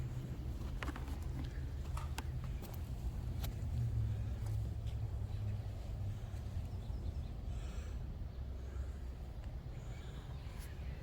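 A concrete truck arriving at a construction site during a passive house foundation pour gives a steady low engine rumble throughout, with scattered clattering and knocks over a continuous broadband background.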